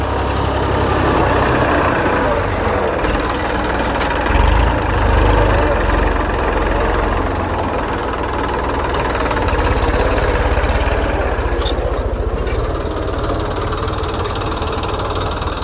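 A tractor engine runs steadily in a field with heavy clods, a continuous loud low rumble and drone that holds throughout with slight swells.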